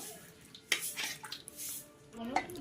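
Eggs going into a greased cooking pot for egg biryani: a few sharp metallic clinks and knocks against the pot, then a soft scrape, close and quiet, with no voices.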